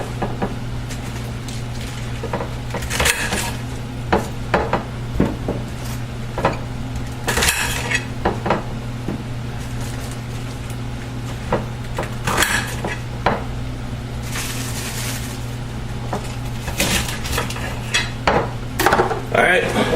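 A knife chops bok choy stalks and leaves on a cutting board in a home kitchen, a series of sharp irregular clicks and taps that keep coming over a steady low hum.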